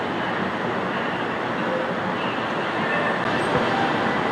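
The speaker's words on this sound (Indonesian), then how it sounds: "ini adalah LRT jurusan Sentul Timur." A light rail LRT train on the Sentul Timur line hums at the Putra Heights terminal station in Selangor, Malaysia, a steady, moderately loud rumble with no talk.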